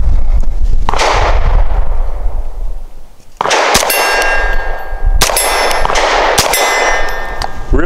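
Langdon Tactical 92 Elite pistol firing 100 grain frangible rounds, heard as several loud, sharp shots spaced a second or two apart, each with a bright metallic ring and clang trailing after.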